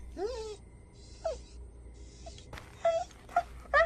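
A dog whimpers and whines under a mango tree during a ghost story, in a series of short, wavering moans and higher yelps spread over a few seconds, faint and fairly close against a quiet background.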